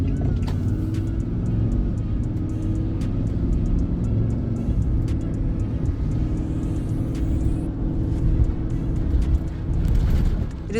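An SUV drives along a road after its air suspension repair, giving a steady, fairly loud interior rumble of road and engine noise with light clicks and a brief voice in the cabin.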